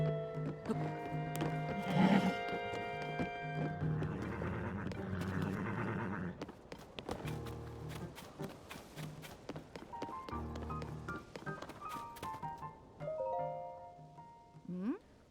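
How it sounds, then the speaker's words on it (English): A horse in Zelda: Tears of the Kingdom whinnies amid game music and effects, then hooves clop in brief bursts, fairly close, with layered musical tones throughout. "What can I do with my horse?"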